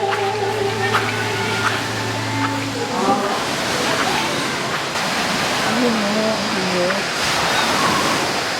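Ocean waves washing onto a white sand beach, a steady broad roar of surf close by, with a voice talking over it and a few other tonal sounds near the start.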